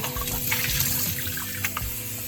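Water runs steadily from a tap with splashing and trickling as saltfish is rinsed beneath it, close by, with no talking.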